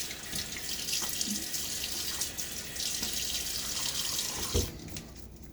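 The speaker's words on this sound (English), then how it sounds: "Now I'm douse my face with a little bit of water." Running tap water splashes as a man douses his face during a wet shave, a steady close rushing stream with brief splashy bursts and a short pause near the end, no talking.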